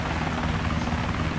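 KA-50 helicopter in Arma 2 flying close by, steady loud rotor thrum and engine drone holding evenly throughout.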